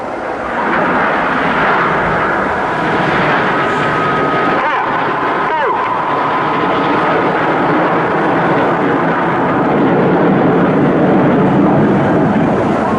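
Red Arrows jets barrel roll trailing blue smoke at the Teignmouth Airshow, a broad distant roar of jet engines with a whooshing pass near the middle, carrying on steadily throughout.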